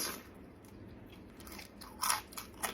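Someone bites into the crunchy edge of a jumbo pempek kapal selam fish cake. A quiet lead-in gives way to a few sharp, crisp crunches near the end.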